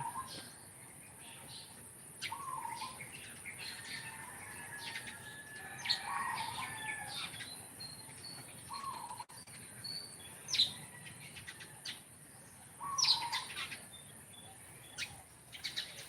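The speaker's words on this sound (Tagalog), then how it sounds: "Ni ibon, oh." Birds chirp and tweet in short scattered bursts, fairly close, over a quiet hum of insects in the background.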